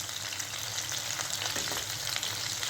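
Pieces coated in egg, flour and cornflour fry in hot oil with a dense, continuous sizzle that holds close and even throughout, and no voices are heard.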